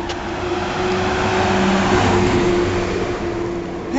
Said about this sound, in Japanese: 待ってよ、車来るよ。